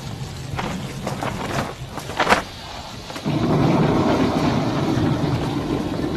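Heavy rain pours down steadily, a dense broadband roar that sets in about halfway and continues to the end, preceded by softer rumbling, wind-like background noise with a few brief bursts.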